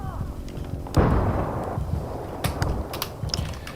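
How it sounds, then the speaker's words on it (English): A grenade goes off in the video game Battlefield 3, a loud booming blast with a rumbling tail, followed by scattered sharp gunfire cracks amid busy battlefield noise. "Fucking grenade!"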